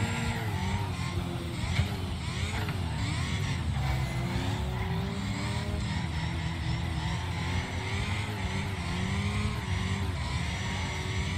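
Engines rev and tyres squeal as a car slides and skids through a demolition race in Wreckfest, a steady loud mix of motor drone and scrabbling wheels with crowded game noise throughout.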